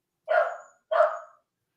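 A dog gives two sharp, loud barks close by, about half a second apart, and then goes quiet.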